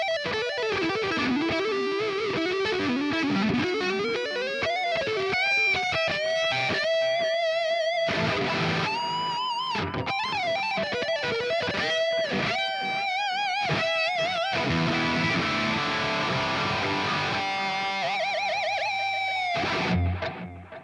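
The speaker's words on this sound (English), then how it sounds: "So that's my high gain tone." Heavily distorted high-gain electric guitar through a Quad Cortex plays a continuous fast riff with sliding lead lines and chunky chords, loud and saturated throughout before cutting off.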